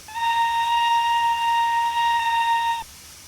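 Quilled steam locomotive whistle from a Wayside Works Seaham No.18 engine in a train simulator game, one steady multi-tone blast held for nearly three seconds before cutting off cleanly, loud and close with no voices.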